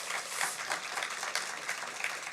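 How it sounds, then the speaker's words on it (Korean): Congregation clapping for God during a Sunday worship service at Cornerstone church, a short burst of dense, steady applause filling the room at moderate volume. "하나님께 박수 한번 올려도 될까요?"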